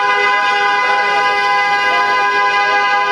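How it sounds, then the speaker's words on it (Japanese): Car horns sound on a busy New York City street, a loud sustained blare with layered tones that holds steady throughout. "ニューヨークといえばこのクラクションですよね。"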